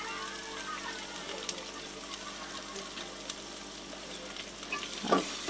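Chili powder fries and is stirred in a pan with ginger-garlic paste, a soft low sizzle with light scraping and one brief louder clink near the end.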